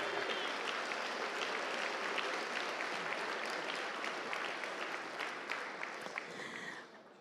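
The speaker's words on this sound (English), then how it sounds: "Let's give a round of applause there." Audience applause fills an awards ceremony at a conference, steady clapping that fades slightly toward the end.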